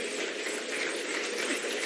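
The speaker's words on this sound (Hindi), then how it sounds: "आदरणीय जगत प्रकाश नड्डा जी, एक बार जोरदार तालियों से स्वागत करें।" A dense, even wash of clapping from an audience welcoming JP Nadda at a Basti Sampark Abhiyan event in Karol Bagh, sustained and fairly loud with no pauses.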